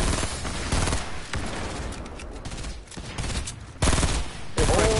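Heavy gunfire in a PS4 shooter game, dense volleys of loud shots coming in several bursts with brief lulls between them, continuing steadily for about five seconds.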